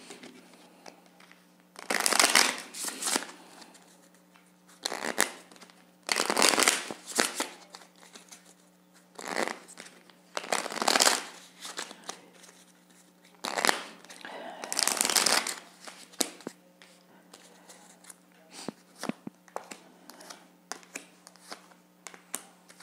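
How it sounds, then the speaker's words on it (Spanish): Oracle cards of an angel romance deck being shuffled and drawn, several bursts of riffling and flicking card noise separated by short pauses, close and fairly loud over a steady low hum. "Vamos a sacar ahora nuestras cartas de los Ángeles del Romance"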